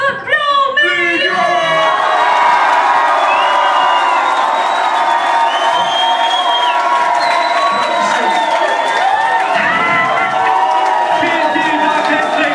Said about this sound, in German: Und einen ganz fetten Applaus mal für Blumen!